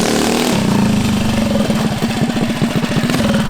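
A cheap backyard mini bike engine revs loud and close, a buzzing small-engine roar that climbs in pitch and then settles into a rapid, pulsing putter.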